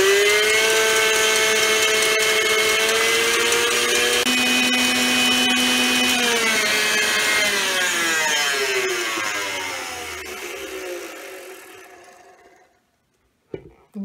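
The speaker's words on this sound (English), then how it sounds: "we're going to beat these egg whites until they form stiff peaks" An electric mixer fitted with a whisk attachment beats egg whites toward stiff peaks. Its loud, steady whine winds down and cuts out near the end, then a brief clink follows.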